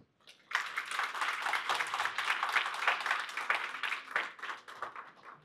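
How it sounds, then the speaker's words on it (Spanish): An audience at a university academic event breaks into strong applause, dense steady clapping that starts abruptly and holds for several seconds before starting to thin, heard from within the hall. "nuestra universidad le agradece su presencia con un fuerte aplauso"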